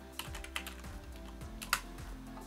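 Short bursts of typing on a computer keyboard, quiet, close, irregular keystrokes with a few sharper clicks and no speech.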